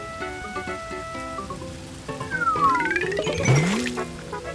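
Heavy cartoon rain patters steadily throughout, joined by whistling and bouncing cartoon effects that swoop up and down near the end.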